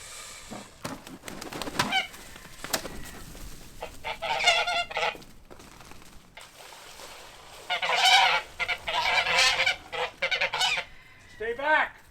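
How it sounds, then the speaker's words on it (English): Emden geese on a small farm give repeated loud, harsh honks in bursts, some close and some further off, with gaps of quieter rustling between the calls. "We also got 4 Emden geese."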